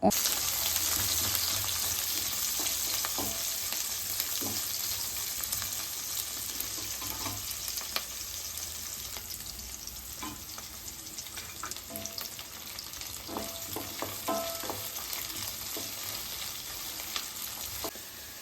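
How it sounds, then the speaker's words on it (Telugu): Onion fries with cumin, mustard seeds, green chillies and curry leaves for a carrot curry, producing a steady, close sizzling hiss throughout, with intermittent stirring scrapes and small crackles; no talking. "జీలకర్ర ఆవాలు ఆనియన్ పచ్చిమిర్చి కరివేపాకు ఇవన్నీ కామన్ అనమాట ఫస్ట్ ఇక్కడైతే ఆనియన్ వేసాను"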